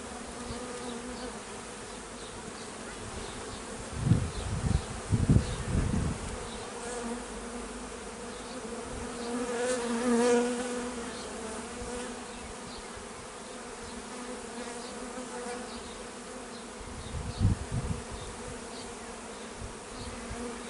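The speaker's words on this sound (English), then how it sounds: "we're hoping that the flying bees will go into this hive" Honey bees buzzing around a hive during colony merging, a steady close drone with individual bees flying past, swelling louder at moments.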